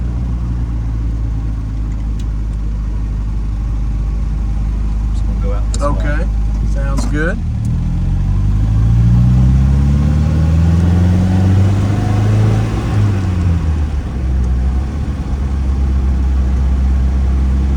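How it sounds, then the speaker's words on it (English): A 1960 MGA roadster's small engine hums and revs through gear changes while driving, with people talking briefly over the steady motor drone. "This car likes to be driven a little faster than we would be able to in this neighborhood."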